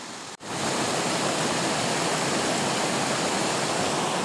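Karinkappara waterfall roars close by, a loud, broad, unbroken rush of falling water that starts abruptly after a brief gap and then holds steady.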